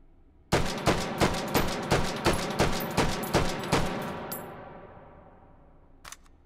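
Semi-automatic gunfire in the VR game Hot Dogs, Horseshoes & Hand Grenades: about a dozen sharp, evenly spaced shots with ringing tails, then the firing stops and the echo fades, with one faint click near the end.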